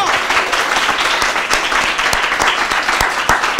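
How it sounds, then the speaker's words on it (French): Children at a Day of the African Child celebration applaud loudly, a continuous dense roar of clapping with sharp individual claps popping out, close and sustained throughout. "applaudissez fort, fort, fort, fort, fort, fort, fort."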